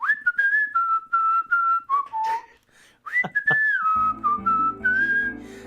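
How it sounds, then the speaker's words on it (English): A character in the Final Fantasy IV video game whistles a jaunty tune, clear, bright notes held and stepped in a lilting melody, with a low synthesized backing joining near the end. "He starts digging a hole. Whistling a jaunty tune."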